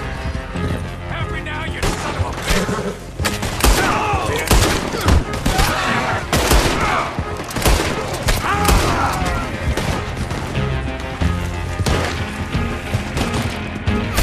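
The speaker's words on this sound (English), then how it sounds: "Why are people shooting at me?" Gunfire crackles through a Red Dead Redemption 2 bar brawl, dense loud volleys of shots rattling nonstop, mixed with game sounds and a voice talking over it.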